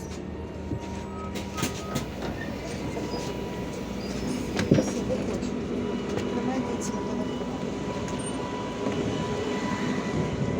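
Steady rumbling ride inside a Škoda 14Tr trolleybus, with a continuous low drone, faint rattles and occasional knocks, close and moderately loud throughout, with no talking.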